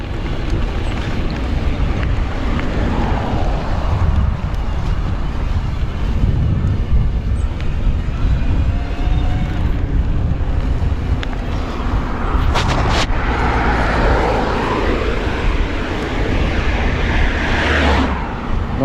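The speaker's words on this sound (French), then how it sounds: "qu'il pleut un peu, il y a un peu de vent." Wind and light rain outdoors on a mountain bike ride with a Commencal Meta Power SX Bosch e-bike, a steady loud broadband rush of wind buffeting the microphone throughout, no talk.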